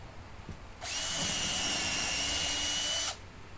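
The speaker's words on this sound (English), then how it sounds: "we have to drill a couple of holes into the legs where the armrests attach" A power drill bores holes into the varnished wooden legs of a daybed built from pallet wood, one steady, loud high-pitched whine lasting about two seconds after a brief knock, then stopping abruptly.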